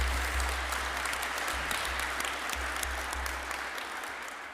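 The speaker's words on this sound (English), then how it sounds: "let's give a round of applause for his great dedication here." A crowd at a university ribbon-cutting ceremony breaks into sustained applause. Many hands clap in a dense, even patter that eases off slightly as it goes, with a low electrical hum beneath.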